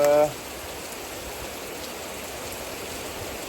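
Heavy monsoon downpour, a dense, steady wash of rain noise continuing evenly throughout after a brief tonal sound at the start.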